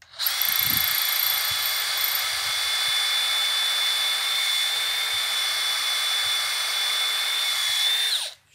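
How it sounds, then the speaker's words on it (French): A power drill bores a hole in a wooden garden planter frame, holding a steady high-pitched whine for about eight seconds, with a few faint knocks at the start before it stops abruptly. "Je perce plutôt en haut parce que ça va avoir tendance à partir en bas"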